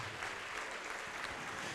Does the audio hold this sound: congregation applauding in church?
yes